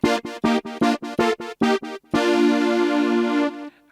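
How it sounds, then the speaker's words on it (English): Synth brass tone from a Casio CT-X3000 keyboard: a series of short, punchy staccato brass chords in a quick rhythm, then one long sustained chord that fades out, bright and loud with no talking. "as I said, I've got this synth brass tone,"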